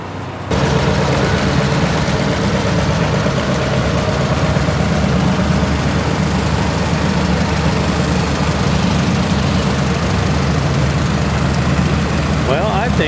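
Several tractors, including a Farmall Super MTA, idle together at a Red Power show, a steady low mechanical rumble running continuously throughout with no break.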